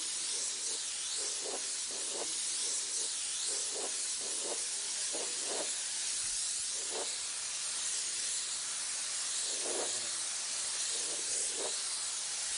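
Airbrush or spray gun hissing steadily as heavier pearl coats are laid down to paint realistic flames on a vehicle, a constant soft airy spray with faint intermittent clicks and squeaks, no voices.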